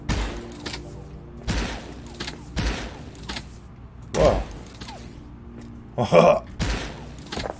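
Bursts from an Egyptian Anunnaki gun in the Ley Lines video game arrive as several loud, evenly spaced shots with mechanical clunks, two heavier blasts near the end, while a voice briefly exclaims.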